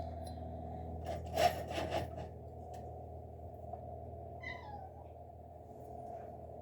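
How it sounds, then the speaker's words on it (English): A cat meows in a home kitchen, a short close cry followed by a softer call, over a steady low hum of cooking sounds. "And there's the cat."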